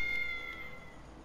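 A cat meows once inside the GTA V video game, short and faint over a low steady hum, with no talking.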